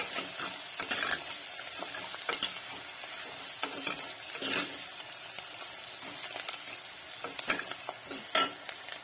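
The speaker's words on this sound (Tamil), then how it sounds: "வெங்காயம் நல்லா வதக்கிக்கலாம்" Chopped onions sauté in a pan for fish head curry, a steady close sizzle with occasional stirring scrapes and clicks of the spoon, and no talking.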